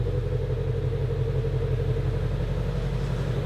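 A rebuilt, previously wrecked 2018 Ford Mustang Shelby GT350 idles steadily with its exhaust closed, a loud, even, low rumble that carries on alone without any voices.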